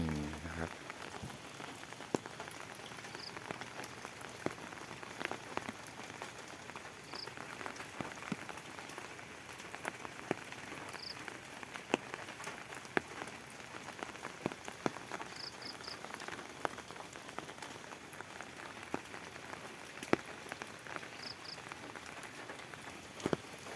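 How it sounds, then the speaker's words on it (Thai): Steady morning rain patters and drips on a surface behind a house, with scattered louder drops over a soft, continuous hiss. "น้ำฝนหยดลงมานะครับ"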